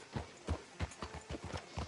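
Horse hooves clip-clop at a steady walking pace in the video game Red Dead Redemption II, each hoofbeat distinct and evenly spaced, heard at moderate distance over quiet ambience.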